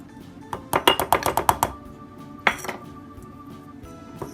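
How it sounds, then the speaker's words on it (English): Chocolate mug cake batter being whisked after powdered sugar goes in: a quick run of about ten bright clinks of a utensil against a mug, then one more clink and a few faint taps, close and alone. "And then just whisk that again."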